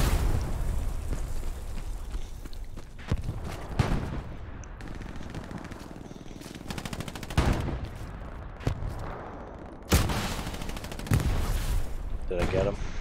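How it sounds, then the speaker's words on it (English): Machine-gun fire and scattered gunshots in the Hell Let Loose World War II shooter, with repeated loud bursts and single cracks, some close and some distant, over a constant battlefield rumble. "I hear the anti-machine gun."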